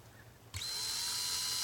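A power drill starts abruptly and spins up to a steady high whine, drilling holes under the eaves for an outdoor solar security light, close and loud after a quiet moment.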